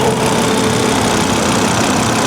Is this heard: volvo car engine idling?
yes